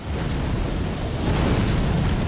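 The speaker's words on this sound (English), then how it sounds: "nice big explosion over there" A big explosion goes off in the Elden Ring video game, a loud, rumbling burst that swells and lingers for a couple of seconds as a dense roar, with no talk over it.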